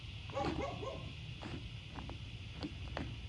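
A neighbour's dog outdoors gives a few short barks from some distance, spaced irregularly across a steady background hiss, in a garden with a compost mound.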